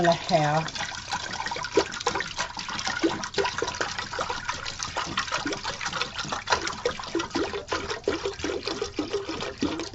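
A gallon of water poured into a container for a mushroom grow, heard as a continuous close splashing and trickling pour, with a voice speaking briefly at the start.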